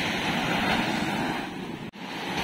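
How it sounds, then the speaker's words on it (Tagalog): Strong ocean surf beside a rock formation at Bolinao, Pangasinan: a steady, loud broadband wash of breaking waves mixed with wind buffeting the microphone, with one brief dropout near the end. "Malakas lang kasi yung alon."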